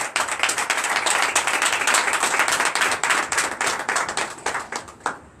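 A worship service congregation bursts into loud, sustained clapping, a dense and roughly rhythmic wash of many hands that thins and trails off at the end, with no voices.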